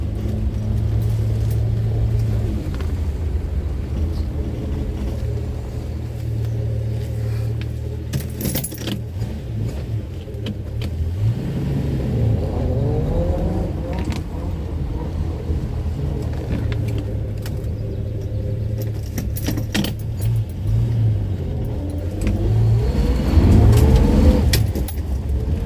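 A six-cylinder car with wide front tires drives and accelerates, its loud, steady engine rumble swelling with revs, along with jangling keys and cabin rattles close by.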